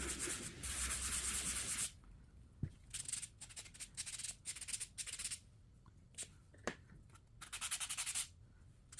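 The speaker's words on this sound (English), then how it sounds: "I'm gonna do a dry sand just so it's really smooth and it gives it a distressed look." Dry hand-sanding of wood to give it a smooth, distressed look, close rhythmic rasping strokes in bursts with brief pauses and a few light taps between them.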